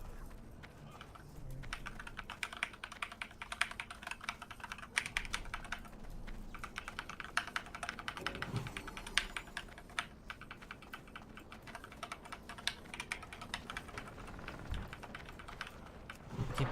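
Loud computer keyboard typing during a Mists of Pandaria Classic game stream, a dense run of rapid clicky keystrokes lasting throughout, close to the mic with faint talk in the background.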